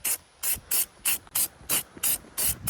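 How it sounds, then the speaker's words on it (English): Rust-Oleum truck bed coating sprayed from an aerosol can in eight short, evenly spaced hissing bursts, close and loud, with silence between each. "Product of choice is the Rust-Oleum truck bed coating."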